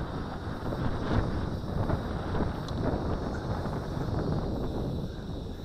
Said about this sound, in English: Oh, they got some wind here.